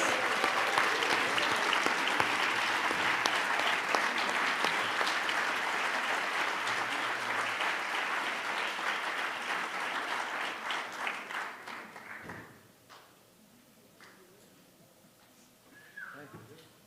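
A crowd applauds the 18th graduating class of a leadership academy at an annual awards meeting, steady full clapping that tapers off after about twelve seconds into sparse claps and a brief voice.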